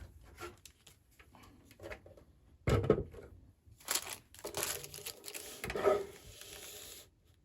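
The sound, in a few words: cutting paper strip for junk journal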